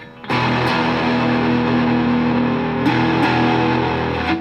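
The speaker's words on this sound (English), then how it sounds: "it's modeling what it would sound like if we were to overdrive an original Fender Princeton reverb" An overdriven electric guitar played through a Fender Mustang III amp modeling an overdriven Fender Princeton Reverb rings out loud chords with a gritty, saturated tone, sustaining between a few fresh strums.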